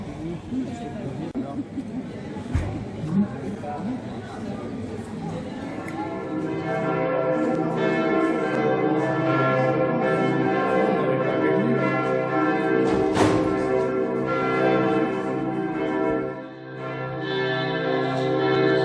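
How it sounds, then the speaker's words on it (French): Church bells peal steadily outside a small crêperie at lunchtime, loud and sustained with rich overlapping tones, while people chat nearby and a voice talks over the ringing. "Je vais essayer de parler fort pour couvrir le son des cloches."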